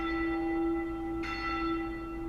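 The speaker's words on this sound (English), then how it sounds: "The bells of Al-Tahira Church ring out across Mosul" Bells of Al-Tahira Church in Mosul ringing, a sustained resonant tone with a lingering hum and a second strike adding brightness midway, heard alone and fairly clear.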